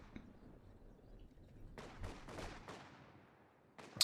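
A rifle grenade bursts in a multiplayer war game match, a cluster of sharp, fairly quiet blasts with crackling tails following a stretch of low distant rumble, then a final louder crack at the end.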